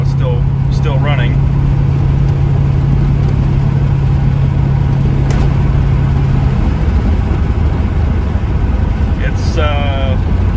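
A C4 Corvette engine runs near and loud, a steady low drone with a held hum that drops away partway through, while a few short voice bursts come through.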